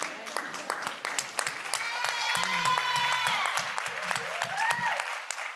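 Audience applause fills the room at a talk on acute, chronic and neuropathic pain, steady clapping with some cheering throughout, while a voice speaks over it partway through.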